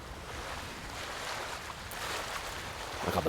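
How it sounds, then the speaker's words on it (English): A stream in the video game Ghost of Tsushima gives a steady, broadband rushing wash of flowing water, continuous and fairly loud, with no voices. "there's actually a current to this stream."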